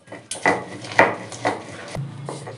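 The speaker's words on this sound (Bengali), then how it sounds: "সরিষার সাথে 3টে কাঁচা লঙ্কা একসাথে বেটে নেব।" Black mustard seeds and three green chillies are ground into paste in a few forceful, separate scraping strokes, close by and alone.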